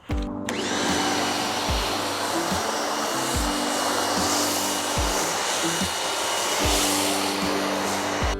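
A pressure washer runs nonstop while foaming and rinsing a car at night, a loud, even hiss over a motor hum whose pitch drops and recovers every second or so as the trigger cycles.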